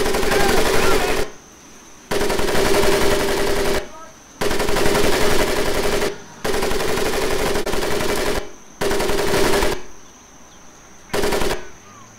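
Machine gun fire sweeps over a boot camp mud pit crawl in Medal of Honor Pacific Assault, coming as loud, dense bursts of a second or two separated by short quiet gaps, repeated about six times.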